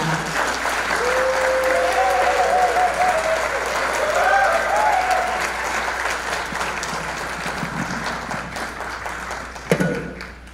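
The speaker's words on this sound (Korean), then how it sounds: "큰 박수로 환영해 주시기 바랍니다" Sustained audience applause at a Korean-American Christian business convention (KCBMC), welcoming two chapter leaders to the stage; steady dense clapping throughout, with a single sharper thump near the end.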